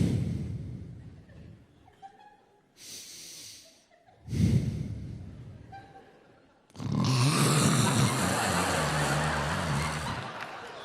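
A comedian vocally imitates his wife's loud snoring with deep, rasping snorts and drawn-out breaths, separated by short pauses, followed by a burst of loud audience laughter and applause.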